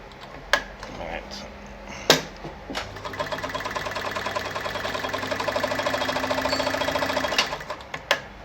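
A Kayser model 138 automatic sewing machine runs a back stitch in a steady rapid mechanical chatter for several seconds, with a few sharp clicks before and after and a voice talking around it.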